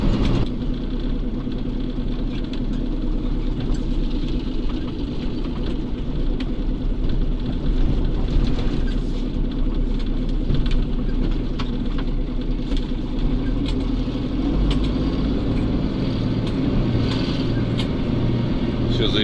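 A Volvo F12 truck drives smoothly at low speed around a corner, its steady diesel engine hum continuous and close throughout, with someone talking over it.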